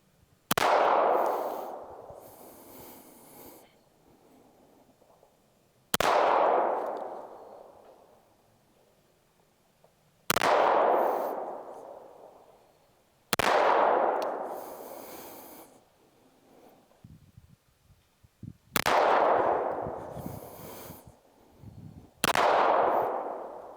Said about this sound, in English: So I'm gonna shoot these rounds, do some headshots.